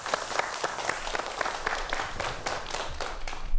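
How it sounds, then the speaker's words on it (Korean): An audience at a televised lecture on the Dongui Bogam claps in short bursts, the individual claps sharp and fairly close. "박수 한번 감사합니다"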